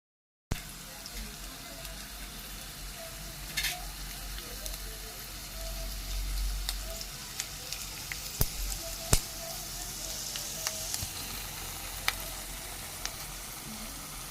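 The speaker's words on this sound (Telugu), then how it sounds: "మనం వేసిన పప్పు దినుసులన్నీ కూడా ద్వారగా వేగేదాకా మనం అయితే వెయిట్ చేసేద్దాం" Lentils and cashews fry in oil for mango pulihora, a soft continuous sizzle with scattered clicks and ticks of stirring, close and moderately quiet, no talk.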